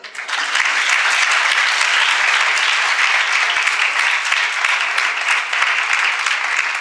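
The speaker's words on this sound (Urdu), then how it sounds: "یہ چیز آپ کو سمجھ آتی ہے تو اس پہ آپ تالیاں بجا دیں." An audience at a stage talk claps in sustained, loud, even applause, a thick wash of many hands lasting several seconds with no speech over it.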